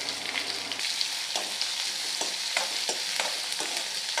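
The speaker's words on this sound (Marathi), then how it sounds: "आता आपण याच्यामध्ये कांदा घालून घेऊयात कांद्याला व्यवस्थित परतून घ्यायचं आहे" Onion frying in a pan for a dhaba-style whole masoor dal curry, a steady close sizzle with regular scraping stirs about every half second, no talk.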